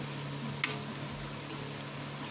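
Vegetables being sautéed with Malvani masala, salt and turmeric make a steady low sizzle, with a couple of soft scrapes of a spoon stirring the pan and no talking.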